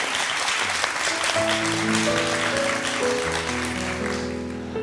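A television studio audience claps steadily for a few seconds, a dense, even wash of applause under sustained musical tones.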